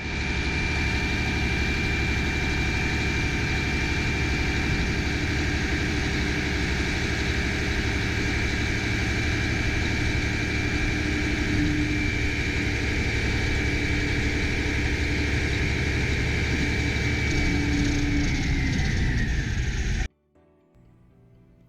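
A 2013 Mack dump truck with a 19-foot dump body runs with a loud, steady diesel drone for about twenty seconds, then the sound cuts off abruptly.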